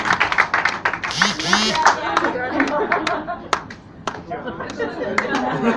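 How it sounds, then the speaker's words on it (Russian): An audience at a concert and entertainment program claps in sharp, fairly regular beats, with voices talking over the claps. "дорогие зрители, сейчас аплодисменты"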